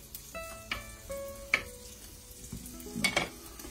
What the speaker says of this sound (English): So, pop in the guanciale. Let it sizzle away.